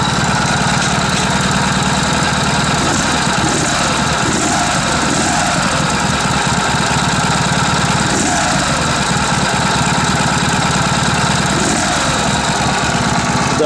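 A bobber motorcycle built on a K-750 engine idles loudly and close by, a continuous rough chugging rumble with slight uneven pulses.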